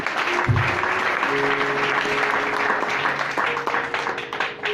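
A church congregation applauding, broad sustained clapping from many people that fills the room, with a sustained musical tone underneath and the sound fading slightly at the end.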